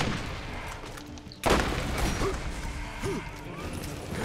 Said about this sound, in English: Explosive gun. That makes things blast.